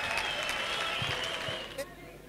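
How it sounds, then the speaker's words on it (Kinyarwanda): Applause from an audience welcoming a performer to the stage at a comedy show, a broad steady clapping wash that fades out near the end. "amashyi menshi cyane twakire"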